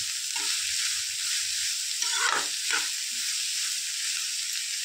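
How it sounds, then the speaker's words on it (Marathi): Capsicum and mixed vegetables stir-fry over a full high flame for street-style momos, giving a continuous bright sizzle with a couple of louder scraping tosses midway. "फुल गॅस केलेला आहे आणि त्याच्यावरच असे फ्राय करून घेणार आहे चांगले"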